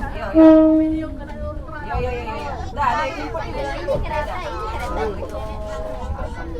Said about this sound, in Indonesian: Sebentar lagi itu kereta yang saya naiki akan tiba di tujuan akhir stasiun Lubuk Linggau